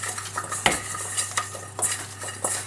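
Sweet potato fries are tossed with olive oil in a bowl, giving repeated scraping and clinking strokes of a utensil against the dish with a faint wet shuffle.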